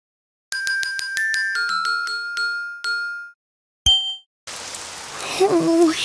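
Cartoon rain begins falling outside after a run of bright chime-like dings, a broad soft patter rising and continuing to the end with a faint tonal wash beneath.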